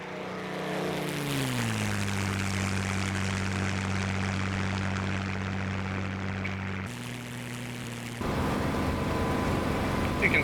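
Spitfire Mk IX propeller engine droning steadily in Digital Combat Simulator, a loud continuous hum whose pitch drops as the prop is pulled back, then shifts again near the end; no talk.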